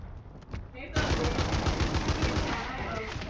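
Rapid automatic gunfire in Warzone 3 Plunder mode bursts in after a few scattered shots, a dense, loud stream of reports under talk from players.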